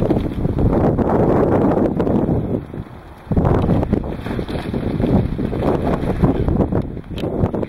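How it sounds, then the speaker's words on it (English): Strong wind gusts roar outdoors beside a greenhouse wrapped in pallet wrap, a loud continuous buffeting rush with a brief lull midway before the wind surges again. "See that we have a lot of wind right now."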